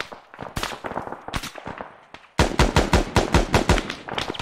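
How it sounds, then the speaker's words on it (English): Sustained machine gun suppressive fire in the Arma 3 military shooter, scattered bursts giving way to a loud, rapid, evenly spaced string of close shots. "We're still getting big suppressive fire to the west."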